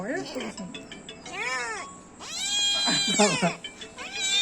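A rescued kitten gives several high, rising-and-falling meows in close succession, loud and near, with a voice talking between the cries.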